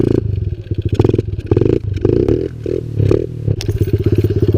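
A Kawasaki KLX 110 pit bike engine revs hard in a wheelie attempt, loud and close, with choppy, pulsing bursts of throttle and short gaps between them.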